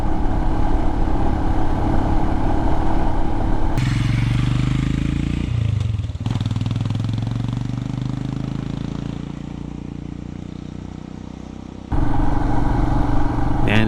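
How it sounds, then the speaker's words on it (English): Royal Enfield Himalayan motorcycle riding a national forest road, its engine a steady, loud drone throughout with gear-shift changes in pitch and no talking. "The Himalayan is just so comfortable and easy to ride out here."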